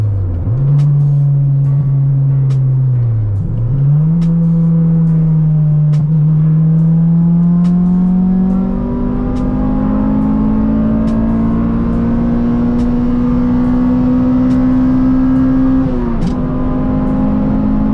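An Acura Integra engine revs up toward redline with VTEC, a loud close steady drone climbing in pitch, dipping once, then holding high before easing off.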